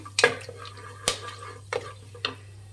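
A spoon stirs cinnamon, cardamom, cloves and cashews in hot oil, making four or five distinct scraping clinks against the pan over a faint sizzle.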